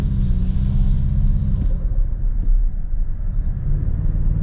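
A Toyota Tacoma Trailhunter hybrid truck climbs a hill, its engine a loud, steady low rumble with a faint whine fading partway through, no talking.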